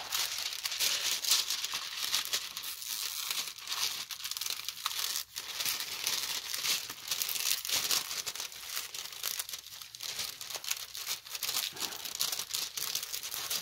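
A plastic sheet from a pre-stamped cross stitch kit crinkles and rustles continuously as it is handled, soft close crackling with frequent small bursts and no speech.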